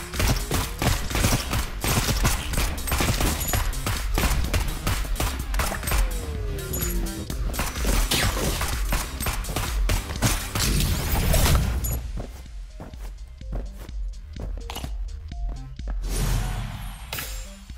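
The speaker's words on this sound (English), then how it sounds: "stop exploding that way" Explosions and rapid gunfire in the video game Neon Abyss, dense bursts of bangs and crackling blasts throughout, thinning to sparser hits near the end.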